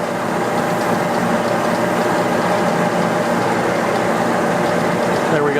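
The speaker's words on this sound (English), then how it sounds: "just allowing the sandpaper and the lathe to do the work" An oak pen blank spins on a wood lathe against fine micro-mesh sandpaper, giving a steady, close whirring rasp with a faint gritty rattle that holds an even level throughout.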